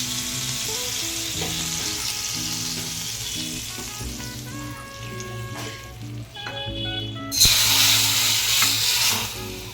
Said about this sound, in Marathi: त्याच्यावरती आपण फोडणी ओतणार आहे म्हणजे आपला मसाला जास्त करपणार नाही